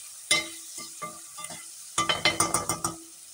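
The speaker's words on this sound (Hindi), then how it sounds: "मैं प्याज को फ्राई करते हैं" Onions frying in a pan give short bursts of sizzle and scraping stirs, a few spaced strokes first and then a quicker run of rhythmic stirs, close and fairly quiet.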